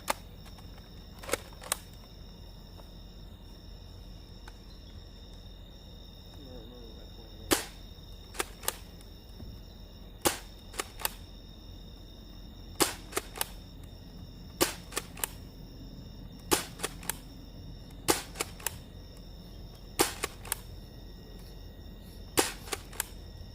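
A Nerf Adventure Force Nexus Pro X blaster fires darts in sharp, isolated snaps, sometimes single and sometimes in quick pairs or triplets, spaced a few seconds apart over a quiet, faintly humming background.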